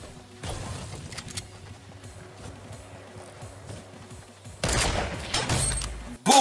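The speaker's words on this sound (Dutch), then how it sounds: "Een headshot met een sniper." Sniper rifle fire in Fortnite: sharp broadband shots, with one burst early and a louder, heavier cluster of blasts near the end, set against quieter game noise.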